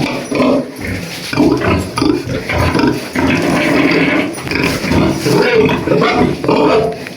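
Pigs kept in pens on a farm grunt and squeal during cleaning and disinfection, loud and close, with overlapping rough grunts and bursts of squealing throughout.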